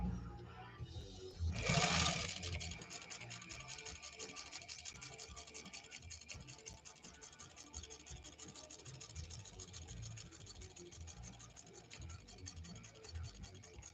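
Vintage sewing machine, a Pfaff 130-6 or Singer 201-2, stitching steadily at close range after a brief louder burst at the start, a continuous mechanical whir with fine rapid ticking throughout.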